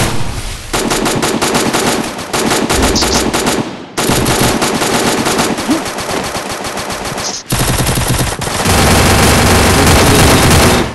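Rapid automatic gunfire in the Garena Free Fire battle game, loud sustained bursts nearly filling the whole stretch with brief gaps, dense and close with music-like game sound layered throughout.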